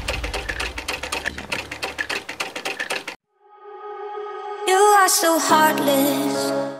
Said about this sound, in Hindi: अब मैं इस हीटिंग पैड को सिलाई करूंगा ताकि इसकी वायर्स बाहर ना आए